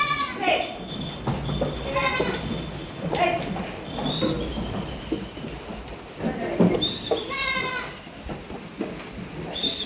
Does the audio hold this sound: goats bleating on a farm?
yes